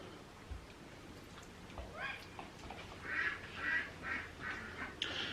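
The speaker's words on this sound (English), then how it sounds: "We have a duck hollering at us." A duck quacks repeatedly in a run of loud, nasal calls that rise in the middle of the stretch, moderately close, with faint voices and background noise underneath.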